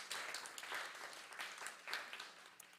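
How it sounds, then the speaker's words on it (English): An audience at a Hindu temple event applauds, a quiet, fairly distant wash of clapping that swells and eases in waves. "So please give another very big round of applause for Mother Devi Radha."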